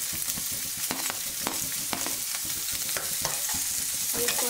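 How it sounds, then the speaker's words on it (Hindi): Steady crackling sizzle of onions and finely chopped beans sautéing in hot oil for veg chowmein, with repeated scraping and clinking of a stirring utensil against the pan. "इसको हम करीब 2 मिनट सॉटे करेंगे"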